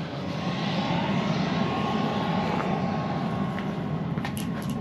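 A propeller or jet airplane engine drones steadily at a distance, a constant mid-level hum with faint sharper clicks near the end.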